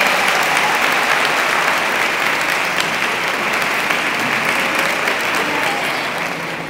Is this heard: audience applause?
yes